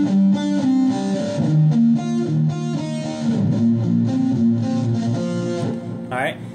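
Electric guitar plays a song's riff, moving from the fifth to the sixth position in a steady run of distinct picked notes, loud and close, ending with a brief slide.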